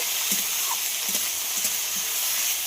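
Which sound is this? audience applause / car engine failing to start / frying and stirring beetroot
frying and stirring beetroot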